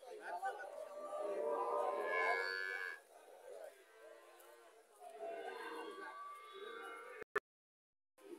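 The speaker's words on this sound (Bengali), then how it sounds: "এখানে আরেকটা পিজিএমসের গাভী দেখা যাচ্ছে" Dairy cows on a Bangladeshi cattle farm selling Jersey, Haryana and Friesian cows, including a black cow, low moos over a steady bed of farm noise and nearby voices, ending in a brief dropout to silence.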